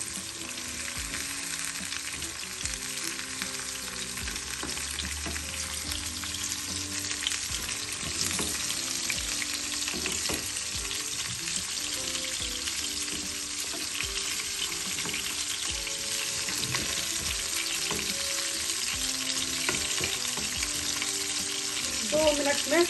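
Prawns frying in a pan for a coconut-milk prawn malai curry, giving a steady, dense sizzle that holds evenly throughout with small crackles and occasional stirring, close and moderately loud with no talking.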